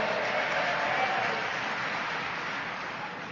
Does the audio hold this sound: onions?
no